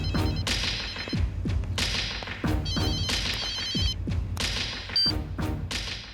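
A telephone rings on a call against dramatic background music, with repeated bright ringing bursts cutting through heavy thuds and whooshing swells.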